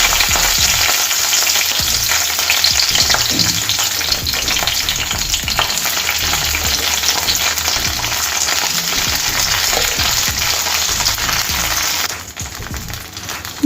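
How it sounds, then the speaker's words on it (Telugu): Green chillies and garlic fry in hot oil for a chutney, a steady dense sizzle running loud and close for about twelve seconds before dropping off near the end. "ఇవి కొంచెం మనకు వేగాలండి. ఒక 2 నిమిషాలు వీటిని వేయించుకుందాం."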